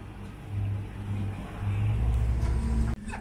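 A 6.8 m boat's outboard motor accelerating on sea trials, a steady low drone that builds in pitch and strength over a few seconds before cutting sharply near the end.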